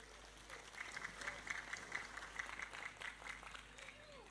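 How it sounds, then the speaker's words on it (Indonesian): An audience at a religious gathering in a mosque setting claps in a moderate, fairly quiet applause, with voices audible over the clapping. "Tepuk tangan untuk beliau."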